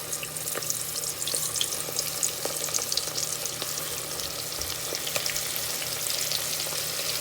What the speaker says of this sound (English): now we're gonna drop these in the grease and let those fry